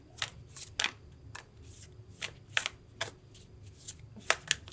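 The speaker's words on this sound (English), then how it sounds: "I'm gonna shuffle a little bit more." Tarot cards being shuffled by hand during a reading, a series of quick, crisp riffling bursts in an irregular rhythm, close and fairly quiet, with no talking.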